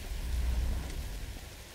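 Rain falling in the video game Tomb Raider, a steady wash of rainfall with a low rumble underneath, even and moderately loud over the short stretch with no voices.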